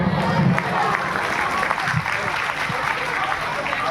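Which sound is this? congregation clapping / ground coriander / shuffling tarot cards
congregation clapping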